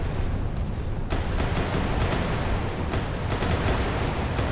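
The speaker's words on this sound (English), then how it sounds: "Oh man, those magazines go up. That's so impressive. That explosion is just awesome to watch." A warship's magazine detonating in the naval combat game Sea Power, a loud, sustained broadband roar of explosion and rumbling blast with a sharper burst about a second in, continuing throughout without speech.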